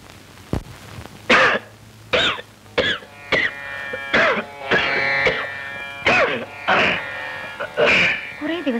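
Repeated coughs and throat clearing from a person with a cold, about eight harsh bursts spaced roughly a second apart, close and fairly loud over a low steady hum.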